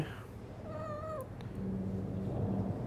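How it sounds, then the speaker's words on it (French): A cat meows twice at close range, a rising, wavering call followed by a shorter one, with a low background hum and no speech. "Oh, chat. Bonjour les chats."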